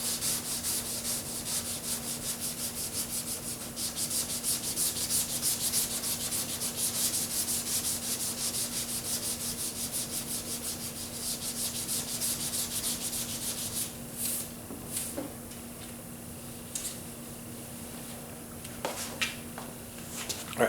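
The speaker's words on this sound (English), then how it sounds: "I'm going to get the round sanding block and hit it." Steady scraping of hand sanding filler on a Ford Flex bumper cover with a round sanding block, continuous rubbing strokes for most of the stretch, then easing into lighter, intermittent scrubs near the end.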